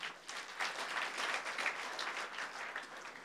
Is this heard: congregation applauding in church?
yes